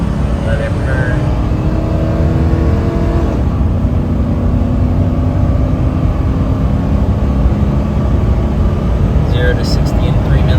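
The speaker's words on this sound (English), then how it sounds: "we're gonna give her all the beans here. Let's see. Full throttle." A Ford F250 with 300,000 miles and a suspected clogged fuel injector is held at full throttle, its engine droning loud and steady up close, the pitch shifting slightly a few seconds in, with no talk over it.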